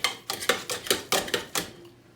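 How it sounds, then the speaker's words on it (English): A utensil mashes cooked carrots with melted butter, making about seven close, sharp clanking strikes in a quick, uneven rhythm before going quiet. "So I'm going to mash these up."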